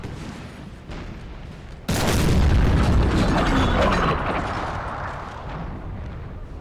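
Artillery fire in the Napoleon Total War battle game: a sudden heavy cannon boom erupts over low battlefield rumble, followed by sustained rolling blasts and distant crackling volleys.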